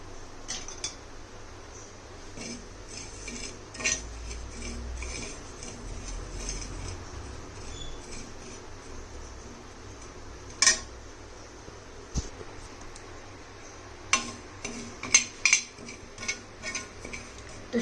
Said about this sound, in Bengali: চলো এবারে আমি এটা গ্যাসে দিয়ে একটুখানি নাড়াচাড়া করে নিই